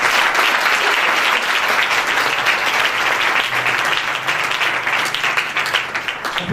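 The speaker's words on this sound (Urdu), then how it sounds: "آئیں یسوع مسیح کے لیے زوردار تالیاں دیں" Loud, sustained applause from a church congregation, dense steady clapping filling the space for several seconds without letup.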